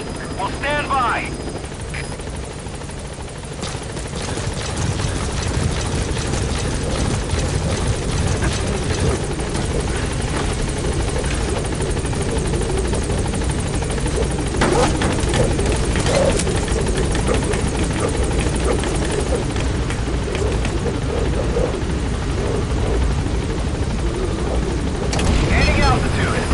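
The Pequod helicopter in Metal Gear Solid V arrives at a landing zone, its loud rotor thump and engine roar swelling and holding steady up close, with radio voice chatter over it.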